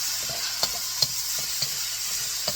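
Chopped tomato sautéing in a pan with golden-brown onion and garlic paste, a steady low sizzle with a few soft stirring knocks and scrapes spaced through it, close and fairly quiet.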